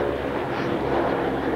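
The Texas Raiders, a propeller aircraft with 1,200 horsepower engines on each side, drones steadily overhead at an air show, a loud continuous roar with no talking.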